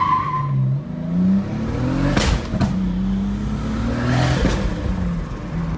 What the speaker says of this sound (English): me trying to rev it up heaps and it was still a boggy launch